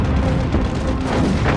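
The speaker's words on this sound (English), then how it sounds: "Enterprise's anti-aircraft guns greet the invaders with a cloud of lead" Anti-aircraft guns aboard the aircraft carrier Enterprise open fire on incoming Japanese Mitsubishi G4M Betty bombers, a continuous loud barrage of booming, rumbling gunfire with no break.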